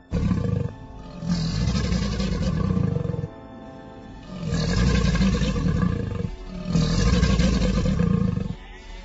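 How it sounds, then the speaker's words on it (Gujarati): Deep growling roars from a fierce wolf in a narrated village story, three long loud bursts separated by brief pauses, close and dramatic with no voices. "ઘુરકવાનો અવાજ સંભળાયો"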